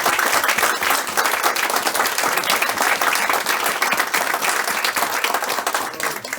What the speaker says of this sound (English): I want to give you a loud round of applause again